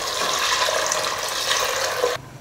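Tamarind water pouring into a pot of catla fish curry, a steady close splashing gush lasting about two seconds and then stopping abruptly.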